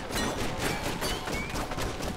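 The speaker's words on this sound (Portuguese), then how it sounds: "Vou atirar em tudo aqui." Continuous rapid gunfire in the LEGO Marvel Super Heroes video game during a Gwenpool bonus level, a dense, loud, unbroken burst of shots with no speech.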